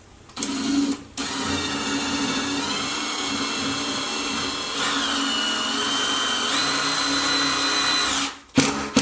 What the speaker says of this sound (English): Okay, so holes are pre-drilled to make this a little easier.